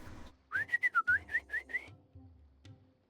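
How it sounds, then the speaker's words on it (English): Kaeya, a video game character in a hangout event, whistles to a bird in a quick run of about eight bright, rising-and-falling notes, close and clear, followed by a few soft rustles. "No, he's whistling to a bird."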